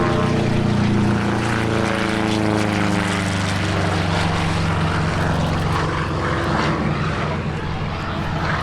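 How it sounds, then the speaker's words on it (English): A Republic-built Razorback P-47D Thunderbolt warbird flies at an airshow, its propeller engine a loud, steady, throbbing drone that holds for the whole stretch. "P-47D Thunderbolt Bonnie, which first flew in May 2023."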